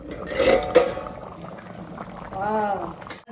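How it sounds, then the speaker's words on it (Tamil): A pot of thick dry fish curry bubbles and gurgles up close, with a brief clink and a voice humming or speaking toward the end. "இப்போ குழம்பு வந்து மூடி வச்சுட்டு நல்லா கொதிக்க வைக்கலாம்."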